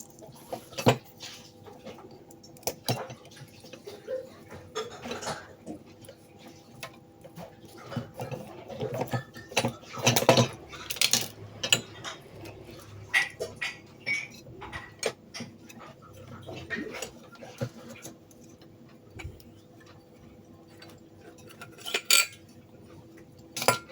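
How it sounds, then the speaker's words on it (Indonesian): Sharp metallic snips and small clinks of a tool cutting the capacitor off a dead electric fan with a burnt spot, scattered irregularly over a quiet room with faint background chirps. "Ini kapasitornya kita potong aja."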